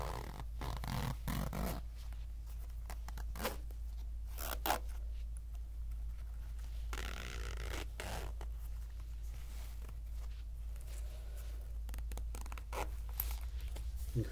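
A zipper on a pencil bag is drawn open and shut again and again, giving close, raspy zips in steady bursts with short pauses over a quiet background and no talking.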